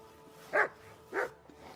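A dog in the game Kingdom Come: Deliverance 2 gives two short, fairly quiet barks about half a second apart over a low ambient background.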